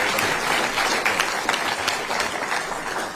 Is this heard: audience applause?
yes